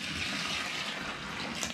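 Water pours steadily into a bucket of Durabond joint compound powder during a small bathroom remodel, a continuous close gushing splash with no talking.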